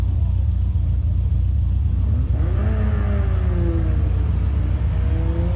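A twin-turbo V10 TDi swapped GQ Patrol Shorty drives through a car park, a steady deep engine drone that builds as it accelerates and revs, rising in pitch toward the end, loud and close with no talk.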